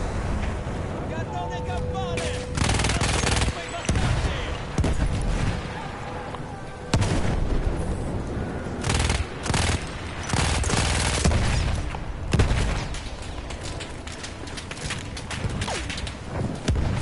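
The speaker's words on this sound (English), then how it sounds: "Literally getting shot everywhere." Gunfire in Battlefield 1 crackles loudly in heavy volleys and bursts, mixed with machine-gun rattle and distant artillery thumps, with a voice talking over part of it.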